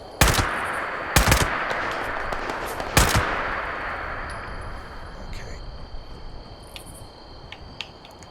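Modded combat rifle fire in Fallout 76, three loud sharp shots with the first two close together, each leaving a long fading echo over a background of insect chirps.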